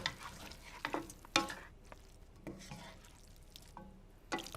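Pasta tossed with sauce in a pan gives off quiet, irregular clattering scrapes and wet slaps in several short bursts, over a faint background sizzle.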